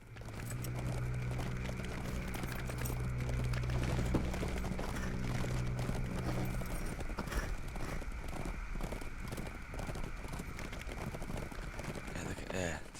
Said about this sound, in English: Just love all these horses riding.